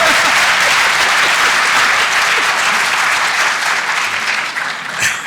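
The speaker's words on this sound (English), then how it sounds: "I'm not sure if that was a sympathetic clap" An audience at a programming conference talk claps steadily and densely, close and loud, with the applause tapering off near the end.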